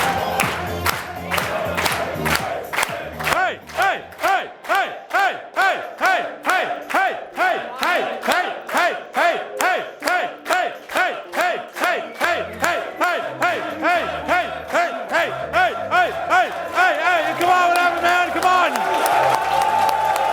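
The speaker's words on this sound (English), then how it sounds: "When you have a huge crowd just cheering you on" A huge crowd cheering in a steady rhythmic chant, with loud pulsing shouts and claps repeating about twice a second throughout and swelling toward the end.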